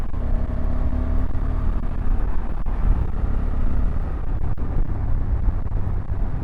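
A 2025 Honda CRF1100 Africa Twin Adventure Sports DCT motorcycle ridden two up with a pillion, its engine holding a steady, smooth drone under constant wind rush, with no talk.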